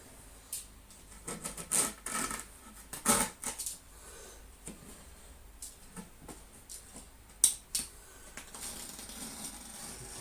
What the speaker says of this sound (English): Oh, there's my knife. And we can cut it to size.